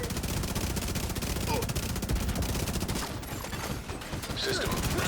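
Rapid, sustained gunfire from a video game fills the scene with dense overlapping automatic bursts that barely let up, loud and close, with occasional voice chatter underneath.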